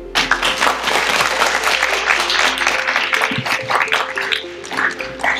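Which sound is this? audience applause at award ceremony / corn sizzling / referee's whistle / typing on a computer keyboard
audience applause at award ceremony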